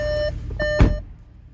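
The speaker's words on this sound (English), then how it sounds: "it's beeping at me because the ignition is on" Warning chime from a 2020 VW Atlas Cross Sport 3.6 SEL with the ignition on, a steady electronic beep sounding twice in a row, close and clear inside the cabin with a soft knock between the tones.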